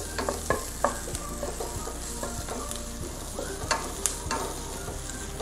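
Masala sautés in a pan for beef kumbanadan with a continuous close sizzle, punctuated by frequent light clinks and scrapes of a spoon stirring against the pan.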